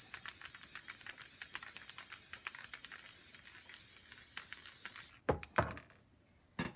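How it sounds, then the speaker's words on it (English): A steady Loctite spray adhesive can hisses continuously for about five seconds, then stops, followed by a few brief short bursts. "All I'm going to do is spray another coat of Loctite."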